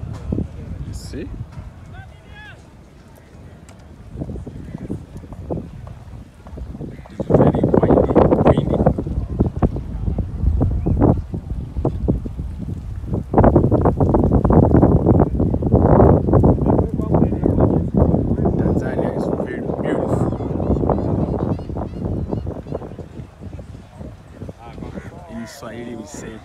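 Boat motor drone and water wash on the water at Kigamboni, Tanzania, with gusts of wind buffeting the microphone, loud at times, while people talk.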